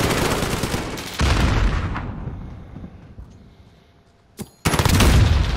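Gunfire in a Call of Duty Modern Warfare hardpoint match: loud bursts of shooting and booming impacts, a lull that fades quieter, then a sharp shot and another heavy burst of fire.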